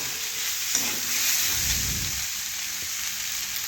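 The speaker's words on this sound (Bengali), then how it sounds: "এখন আমি পরিমাণ মতো জল দিয়ে দেব, যাতে আলু ভালোভাবে আবার সেদ্ধ হয়ে যায়।" Frying potatoes sizzle steadily in a pan, then a short burst of poured water hits the hot oil around the middle, swelling into a louder bubbling hiss before settling back to a soft sizzle.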